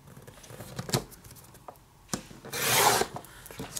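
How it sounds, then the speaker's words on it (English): Scored paper is cut into a strip for crepe paper rosettes: a few soft, close scraping taps, then one brief, rough slicing rasp. "And I'm going to cut a strip, and I'll show you the strip so that you can see why that's important."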